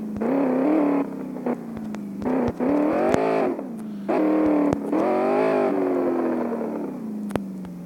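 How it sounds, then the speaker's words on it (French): A video game car engine starts and revs repeatedly, the loud, close buzzing motor rising and falling in pitch through several bursts separated by short gaps, with no talk over it. "Oh putain, la voiture elle peut démarrer."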